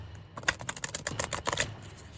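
Oracle cards shuffled by hand in a lap: a quick run of crisp riffling snaps and soft flicks, close and fairly loud, lasting a couple of seconds with no talking.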